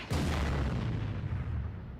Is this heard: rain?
no